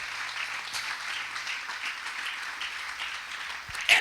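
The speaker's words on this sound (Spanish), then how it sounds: "Vamos a regalarle otra ofrenda de palmas al Dios de la gloria" Church congregation applauding during a service, a steady wash of many hands clapping together at moderate distance, sustained evenly for several seconds without talk.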